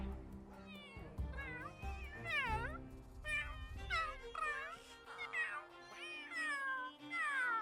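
Several cat meows from The Sims 3 game, with Warriors-style clan cats, come one after another in a string of clear, fairly close calls over soft game background sound.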